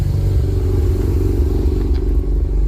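A Honda Type R engine idles steadily up close, a loud continuous low rumble with faint mechanical clatter and no pauses.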